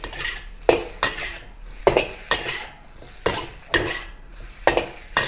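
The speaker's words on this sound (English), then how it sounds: "Mix the rice together with the chili paste until it is mixed thoroughly." Cooked rice stirred together with chili paste in a wok over low to medium heat, a utensil scraping and clanking against the metal in repeated strokes, with light sizzling underneath.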